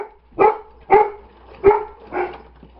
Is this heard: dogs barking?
yes